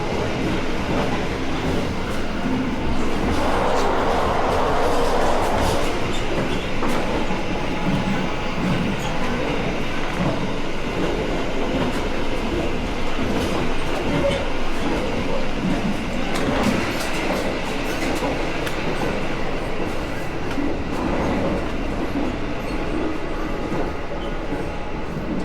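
Constant loud rumble and rattle of the Argo Semeru passenger train heard from inside a carriage, steady running noise with rhythmic wheel clatter throughout and no speech.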